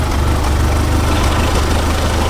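An engine runs at a steady idle, a low, continuous rumble with a faint knocking pulse that stays loud and even throughout, with no voices.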